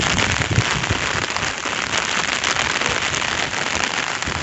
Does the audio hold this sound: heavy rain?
yes